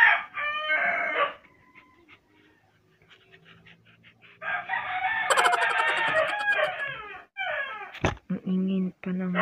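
A rooster crows and chickens cluck nearby in a Philippine farmyard, with people talking over the farmyard sounds.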